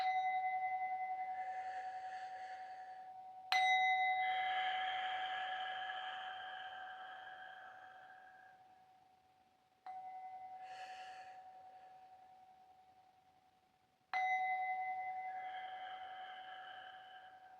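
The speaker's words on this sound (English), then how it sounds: "So it's only right that I give you some chimes." Three separate metallic chime strikes, each ringing out clearly and decaying slowly over several seconds, in an otherwise quiet space, during a meditation session.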